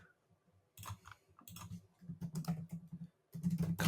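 Typing on a computer keyboard that is malfunctioning, heard as quick bursts of close, clattering keystrokes with short pauses between runs.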